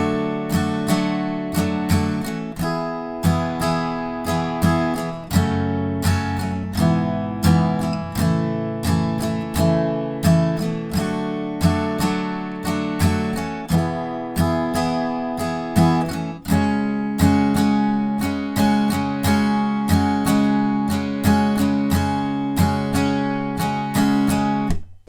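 Guitar strumming the chorus of a song, loud and close, chords in a steady rhythmic pattern with muted strums and some chord changes, played alone for about twenty-five seconds.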